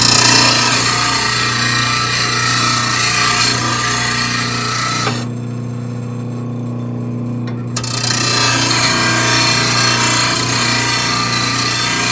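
A bench blade-sharpening grinder works a lawn mower blade for a Toro TimeMaster mower, giving a loud, steady abrasive grinding roar with a strong hum that drops away for a few seconds midway before resuming.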